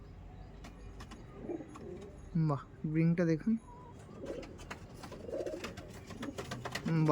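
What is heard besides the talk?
pigeons cooing in a loft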